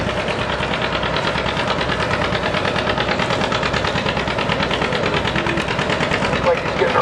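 A 1952 John Deere 60 tractor in a 7,000-pound class pull on asphalt runs with a loud, steady two-cylinder chugging throb, near and continuous, with a voice talking over it.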